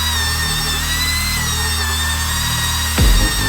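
A drill spins an applicator against an aluminum wheel during polishing, giving a steady tonal whine with a low hum beneath, then a louder rougher burst near the end as the pad bites or shifts.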